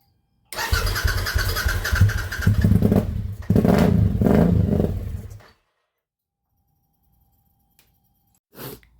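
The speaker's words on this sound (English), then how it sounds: "We'll go ahead and crank this over" A car engine cranks over close by, with two bursts of rhythmic starter churning that fail to catch, followed by silence and a brief faint click near the end.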